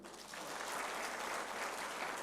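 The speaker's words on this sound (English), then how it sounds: "Kindly clap for them." An audience at a conference claps for a panel, a dense steady wash of applause lasting throughout, moderately distant and even in loudness with no voices standing out.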